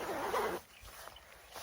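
A large pit zip on a Black Diamond Highline Stretch shell jacket is unzipped in one quick, close rasp lasting about half a second, then goes quiet apart from faint handling noise.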